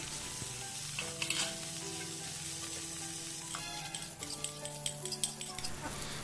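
Food sizzles steadily in hot lard in a pan, with occasional scrapes and clicks of stirring against the metal.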